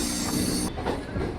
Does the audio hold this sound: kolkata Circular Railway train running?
yes